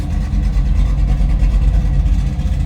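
A 1972 Chevrolet Nova's 350 V8 with aluminum heads idles loudly and close with a deep, lumpy rumble from a mild cam, a steady throbbing pulse without any talking.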